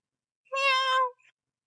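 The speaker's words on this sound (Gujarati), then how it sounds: "બિલાડી કેવી બેઠી છે તડકાની હે." A cat sitting in the sun lets out one clear, close meow of about half a second, followed by a faint short trailing sound and then quiet.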